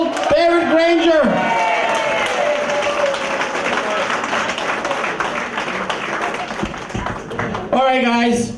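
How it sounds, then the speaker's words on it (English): A crowd at a Guyana election rally for the APNU-AFC coalition breaks into loud, sustained applause and clapping that fills most of the stretch, framed by someone speaking over a PA at the start and end. "Let's get another round of applause for the Honorable David Granger."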